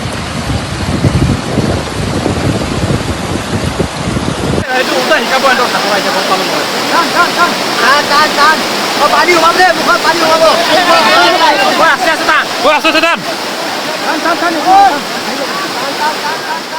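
Fast floodwater rushes loudly during flooding, a dense roaring wash with splashing, abruptly changing in character partway through, with voices under the torrent.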